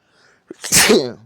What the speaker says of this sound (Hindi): छींक और आ गई।